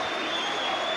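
A crowd at a 1990 Leeds v Rochdale Hornets rugby league match cheers and applauds, a dense continuous roar with no break in this short burst.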